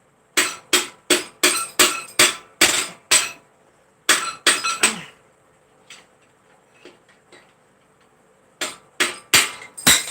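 Hammer tapping in sharp, ringing metallic strikes, coming in a quick series of close, loud blows, then a pause with a few faint clinks, then another quick run of taps.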